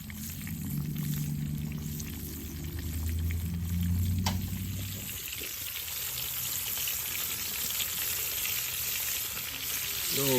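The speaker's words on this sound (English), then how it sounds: "We'll get that catfish fried here in a few minutes." Catfish frying over an open campfire gives a steady, close sizzle and hiss that runs the whole stretch, with a low rumbling undertone during the first half.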